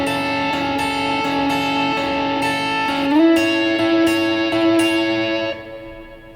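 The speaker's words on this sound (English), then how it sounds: "just the matchless with the plate reverb on default settings sounds like this" An electric guitar plays through a Matchless amp model with default plate reverb on a Line 6 Helix. Sustained chords and single notes shift pitch partway through, then the sound fades into a long, smooth reverb tail.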